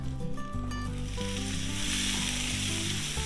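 Butter sizzles and fries on a Blackstone griddle with four burners on low, a steady bright crackle running throughout alongside a low hum and a few tonal clinks.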